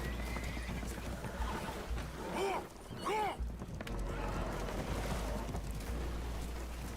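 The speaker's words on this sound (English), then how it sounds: "Horses are spooked, and we're taking on water." Two quick agitated horse neighs rise above a steady roar of rushing water and rumble on a leaking boat in Red Dead Redemption 2, brief and mid-distance.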